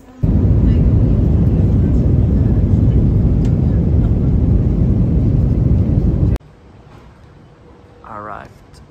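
Steady, loud airliner cabin roar on a Transavia flight fills most of the stretch, then cuts off abruptly to a quiet room tone with a short faint sound near the end.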